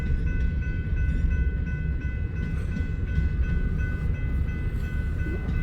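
A freight train rolls steadily through Hobson Yard in Lincoln, Nebraska at night, a continuous low rumble of rail cars with a faint sustained tonal whine, close and unbroken, with no talk.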